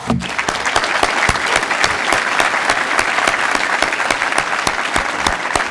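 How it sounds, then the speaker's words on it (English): Audience at a Cardigan Mountain School recognition assembly gives a big, dense round of applause, many hands clapping steadily and loudly for several seconds with no talk over it. "let's start with a big round of applause today."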